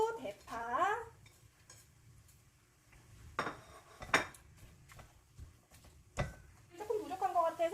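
Green onion and onion are stirred into a pan of half-cooked squid, with scattered close clinks and scrapes of a utensil against the pan, while a person talks in bursts before and after.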